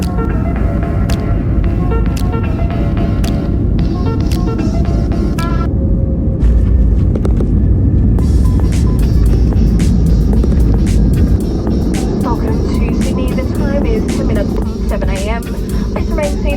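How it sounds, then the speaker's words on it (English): Inside the cabin of a Jetstar airliner landing at Sydney, a steady loud engine and airflow roar rumbles throughout, shifting in tone as the aircraft descends, with a cabin announcement over it. "Enjoy the landing to Sydney."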